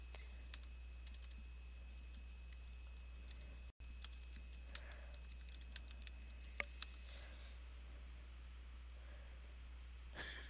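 Soft, sparse keystrokes on a computer keyboard, quiet scattered taps with a few louder clicks over a steady low hum in a still room.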